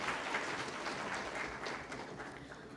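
Audience at a national conference on technical textiles applauds as a government official is honoured with a shawl, a faint, even spread of many hands clapping continuously.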